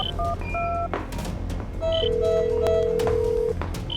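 Phone dialing tones beep in a quick series of short electronic notes, then a longer sustained tone follows, like a call connecting, set over a soft background drone with no speech.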